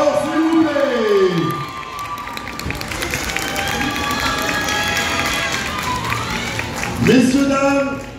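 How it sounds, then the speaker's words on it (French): Crowd at a K-pop dance show cheering, whooping and clapping loudly, with an announcer's voice speaking over the noise at the start and again near the end. "On les applaudit d'abord, s'il vous plaît"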